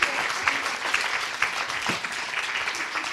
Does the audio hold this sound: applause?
yes